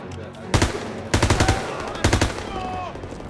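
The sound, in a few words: gunfire and machine gun in video game Call of Duty WW2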